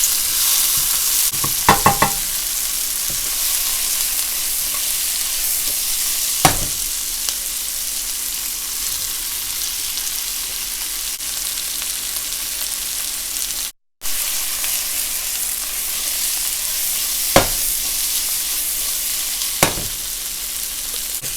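Tomatoes for Chinese sausage fried rice fry in a hot pan, a continuous close sizzle punctuated by several sharp spatula scrapes and knocks as they are stirred, no talking.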